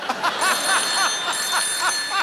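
A telephone rings on an outgoing call, repeating in quick, even bursts at moderate loudness with no talking over it.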